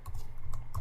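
A few quick keystrokes on a computer keyboard while setting up a Radius server, light clicks in a short burst, close and fairly quiet over a low hum.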